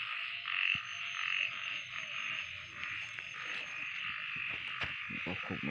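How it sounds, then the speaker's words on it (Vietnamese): A giant toad croaks in a steady series of close, rasping calls, with a constant high insect-like whine in the background. "Đây là con cóc khổng lồ"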